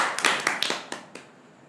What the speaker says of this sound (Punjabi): ਤਾੜੀ ਤਾੜੀ